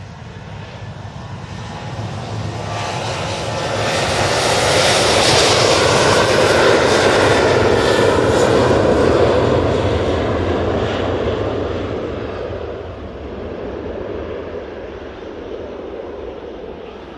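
A Jet2 airliner takes off at Manchester Airport, its engine roar swelling from a distant rumble to a loud, broad blast and then slowly fading away as it climbs out.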